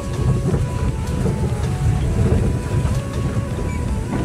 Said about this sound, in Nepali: खोला चाहिँ यत्रो ठुलो आइरहेछ